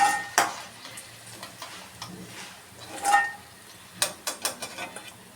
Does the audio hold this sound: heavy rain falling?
no